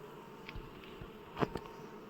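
Bees from a wild swarm nesting under a hive at an abandoned apiary give a faint, steady buzz, with a few brief louder passes close by.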